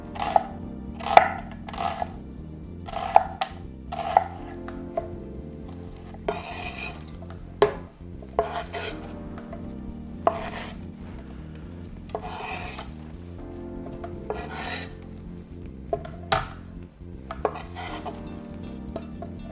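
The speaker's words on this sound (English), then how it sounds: "Cutting this much onion surely will make you cry." A knife chops onions on a board for onion soup in quick bursts of crisp strokes, a few clustered hits at a time with short pauses between, close and clear without talk.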